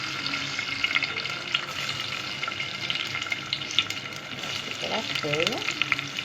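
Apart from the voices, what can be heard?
washed Egyptian rice poured into hot oil and ghee, frying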